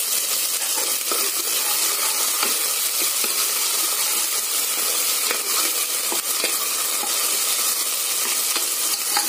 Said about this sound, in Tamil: இஞ்சி பூண்டு பேஸ்ட் ஆட் பண்ணி நல்லா கிளறி விடுங்க